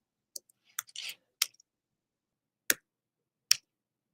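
Keys tapped on a computer keyboard while entering a number for a graduation magnet design, a few isolated clicks with gaps between them, close and fairly quiet, no voices.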